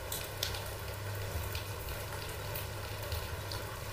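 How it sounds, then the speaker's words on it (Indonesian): Heavy rain falls steadily, a dense, even hiss of drops on a surface that continues without a break at a moderate, fairly distant level. "Hujan semakin lebat lagi"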